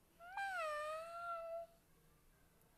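A single drawn-out cat meow, clear and fairly close, rising then slowly falling before fading into quiet.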